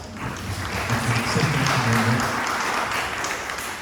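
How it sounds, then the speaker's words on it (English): An audience at a lunch-and-learn event on green collar jobs applauds a guest; a short burst of steady, moderately loud clapping with a voice speaking over part of it. "Give her a round of applause."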